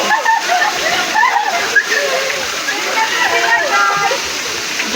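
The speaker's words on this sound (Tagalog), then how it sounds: "Dito sila sa taas nagsha-shower." Showers at Port Royale water park pour and splash in a steady loud rush of water, with voices and people talking throughout.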